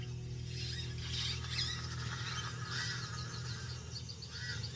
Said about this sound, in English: Pied crows mob her.